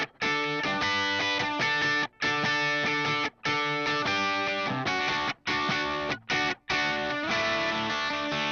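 Raw, unprocessed lead electric guitar, dry with no effects, playing a sustained, loud distorted-sounding line in phrases broken by several short gaps.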